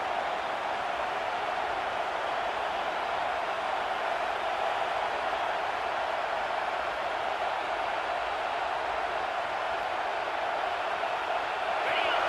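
Steady, dense roar of a stadium crowd at a college football game between Penn State and UCLA, sustained and broad throughout without a clear break, with talk likely mixed in.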